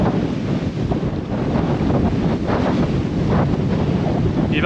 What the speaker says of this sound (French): Il vente, hein?